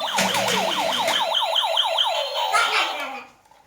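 A toy ambulance siren wails in quick rising-and-falling electronic sweeps close by, then winds down and fades out.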